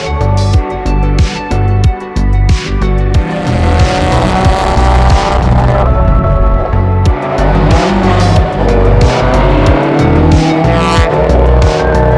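A Toyota AE86 driving on the road in Japan, its engine loud and close as it revs and shifts, with rhythmic gear changes early and a sustained, strained engine note later.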